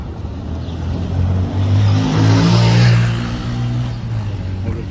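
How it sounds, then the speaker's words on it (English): A motorcycle engine swells and fades as it passes a car close by, its revving drone peaking midway then trailing off. "Motorcycle passing the car."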